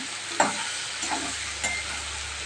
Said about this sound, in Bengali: সর্ষেটা দিয়ে তেলের মধ্যে একটু হালকা করে ভেজে নিয়ে এর মধ্যে আমি ভেজে রাখা পটলগুলো দিয়ে দিলাম।